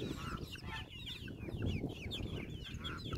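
Chickens cluck close by, with soft overlapping calls and murmurs repeating throughout against a low rumbling background.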